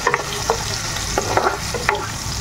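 Potatoes fry in a pan with a constant dense sizzle, broken by several close scraping stirs of a spatula against the pan; no voices.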